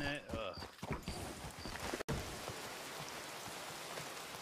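Horse hooves clip-clopping in the video game Red Dead Redemption 2, steady close hoofbeats over a rain-like hiss, with voices talking over the start.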